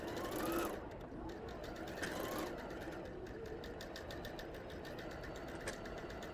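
A rented sewing machine stitching a fabric notebook cover, giving a fast, even mechanical rattle with a rhythmic needle ticking that keeps going throughout at a moderate, close level.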